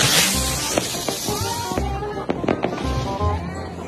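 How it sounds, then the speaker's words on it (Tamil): Diwali firecrackers crackle and pop in a rapid series of sharp bursts with hissing, loud and close, trailing off into scattered snaps. "இந்த வெடி பார்க்க சின்னதா இருந்தாலும் அது பண்ற வேலை இருக்கே"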